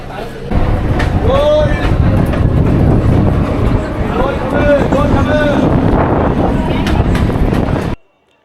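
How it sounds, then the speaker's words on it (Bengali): A train rumbles and rattles nearby as it enters Ballygunge station in Kolkata, with some wind buffeting, a few squeals and horn-like tones, and background chatter underneath, then sound cuts off abruptly. "ট্রেন ঢুকছে, আমরা ট্রেন ধরবো"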